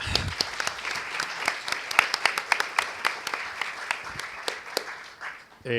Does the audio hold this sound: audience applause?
yes